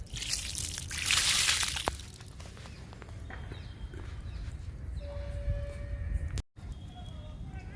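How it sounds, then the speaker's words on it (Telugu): Newly planted marigold seedlings in a small home garden being watered, a soft splashing gush of water near the start, then quieter rustling and trickling with background hum. "ఈ మొక్కకి వాటర్ ఇస్తున్నాను"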